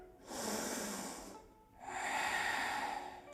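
Two long nasal inhalations during a yoga hip session, each a smooth airy rush lasting about a second, close and soft, separated by a short quiet pause.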